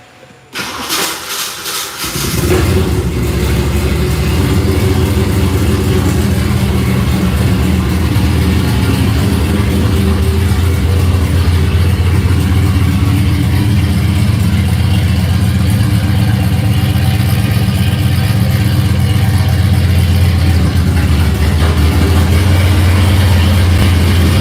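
A car engine with an open exhaust and a leaking head gasket cranks briefly on a bad starter, catches, and settles into a loud, rough, steady running rumble close by, with no talking.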